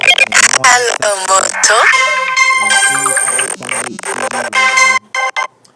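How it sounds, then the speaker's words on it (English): A phone rings with a tonal, melodic ringtone, steady and fairly loud across several seconds, mixed with other sound and cutting off in short bursts at the end. "Sorry about that, my phone was ringing for some odd reason."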